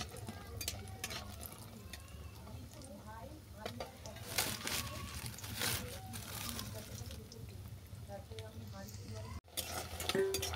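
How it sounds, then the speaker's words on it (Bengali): Lentil dumplings (bori) fry in oil with a low steady sizzle, broken by occasional spoon clinks and stirring scrapes, fairly faint with some voice in the background. "প্রথমে আমি বড়িগুলোকে ভেজে নিচ্ছি।"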